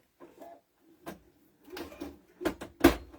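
A sewing machine with a walking foot, set to a 3.5 stitch length, stitches through thick fabric in short, uneven bursts separated by pauses. The last burst is the loudest.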